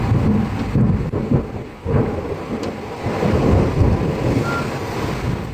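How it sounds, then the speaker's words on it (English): A severe thunderstorm over Western Europe, around Oise and Brussels, brings a steady roar of torrential rain and deep rumbling thunder, loud and dense throughout, with no voices. "The severe storms produced intense lightning, torrential rain, large hail, and powerful winds"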